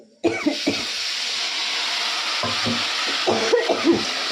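Spices hit a hot pan and burst into a loud, hissing sizzle that holds steady for several seconds, with a few clattering stirring knocks and brief voice-like sounds in the background.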